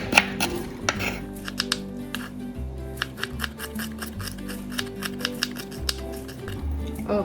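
Knife chopping ginger finely on a board for a potato masala, a steady run of quick close taps over a constant background hum.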